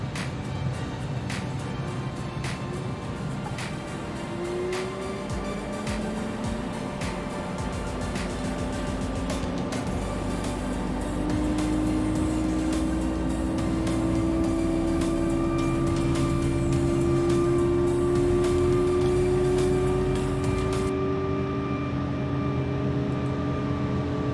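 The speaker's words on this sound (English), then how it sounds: "Engine 2 sounds a go." In the X-Plane 11 flight simulator, engine 2 of an ERJ 650 regional jet starts up: a steady turbine whine rises in pitch as it spools, over a constant rumble, loud and continuous.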